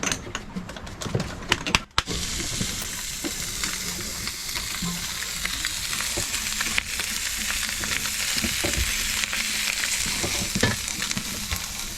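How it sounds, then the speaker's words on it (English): Seasoned mackerel fillets fry skin down in a hot pan aboard a sailboat. A few knocks come at the start, then a steady, close sizzle and crackle carries on with no speech. "these mackerel fillets, some seasoning, hot pan, skin down, and psh."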